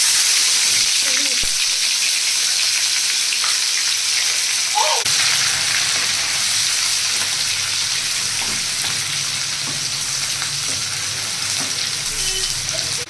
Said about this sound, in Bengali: তো পেঁয়াজটা একটু ব্রাউন করে ভাজতে হবে